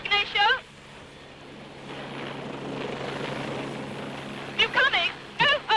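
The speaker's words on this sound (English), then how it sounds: "I just got out of the helicopter" A helicopter touching down on a clifftop in Mallorca gives a steady, loud rotor and engine roar that fills the middle of the clip, bracketed by people talking at the start and end.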